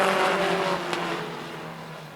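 Race cars circling the track in the final laps, engines droning steadily and fading slightly as they pass at mid distance.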